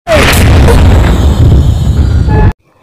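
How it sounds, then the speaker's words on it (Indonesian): A single loud, close blast like a gunshot, followed by a sustained booming rumble that cuts off abruptly. "Bagawan melepaskan tembakan pada Sandia."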